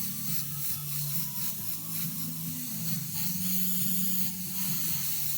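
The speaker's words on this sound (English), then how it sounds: "I always spray down away from the edges" An airbrush sprays paint onto a Harley-Davidson motorcycle fender, giving a steady, continuous close hiss of air and paint with no pauses and no talking.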